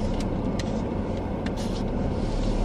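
Interior drone of a car on the road, a steady low rumble of engine and tyres with faint higher noises, continuous and close, no talking.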